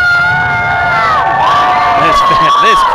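Crowd at an IHW wrestling show cheering and shouting loudly for a wrestler, with high whoops and children's yells rising over a continuous roar of voices.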